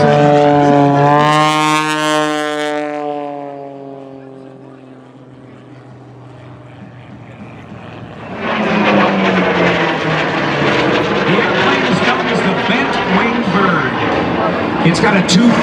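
Loud propeller airplane with a 2,000 horsepower Pratt & Whitney radial engine and a huge propeller at an airshow, a steady droning tone fading before a broad, roaring engine surge swells up and holds to the end, with voices mixed in.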